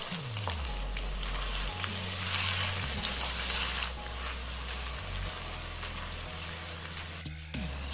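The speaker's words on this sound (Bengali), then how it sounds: "এবারে ওই তেলেই ম্যারিনেট করা চিকেনগুলো ভেজে নিচ্ছি" Marinated chicken pieces frying in hot oil for biryani, a steady close crackling sizzle with occasional stirring scrapes and a low background hum, no voices present.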